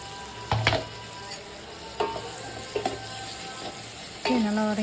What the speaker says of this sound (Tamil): அப்படியே கட் பண்ணி வச்ச தக்காளியை போட்டு நல்லா அதையும் வதக்கி எடுத்துக்கலாம்